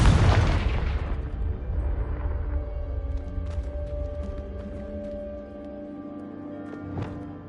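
Confringo blasting spell in the game Hogwarts Legacy, a single heavy booming explosion at the start that rolls off into a long fading rumble, with faint game tones after it.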